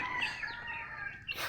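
A native rooster (barako) gives a short crow-like call in the open, with other birds chirping around it and a brief burst of noise near the end.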